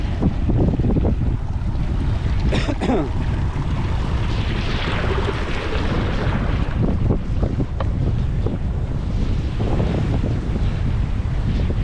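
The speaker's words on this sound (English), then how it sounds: "I like to get as close as I can to the crashing waves over here" Ocean waves surge and crash continuously on nearby rocks in Essaouira, Morocco, a broad roaring wash with heavy wind buffeting the microphone throughout.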